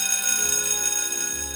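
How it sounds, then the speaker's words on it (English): A warning bell in an old electricity laboratory rings steadily and loudly, a dense continuous metallic ringing that fills the whole moment without pause or talking. "there goes that warning bell"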